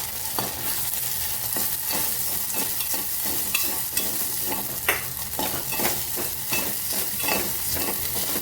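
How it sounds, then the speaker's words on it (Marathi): Soaked sago pearls roasting in a little ghee in a pan, a continuous close sizzle broken by regular scraping knocks from a spoon stirring them. "थोडंसं तूप घालणार आहे मी साबुदाणेसुद्धा भाजून घेणार आहे यामध्ये"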